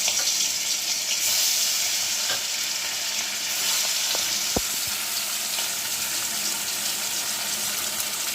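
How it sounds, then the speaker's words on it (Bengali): Rui fish sizzling in hot oil in a wok, a loud, continuous frying hiss throughout with a few brief clicks and knocks near the middle. "তো কড়াইতে মাছগুলো আমি এখন দিয়ে দেবো"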